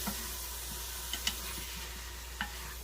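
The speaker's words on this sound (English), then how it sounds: "You hear that sizzling? What that sizzling is that's the fluid coming off of the mushrooms" A soft, steady sizzle of mushrooms frying in butter in a pan, releasing their liquid, with a few faint clicks and taps from stirring.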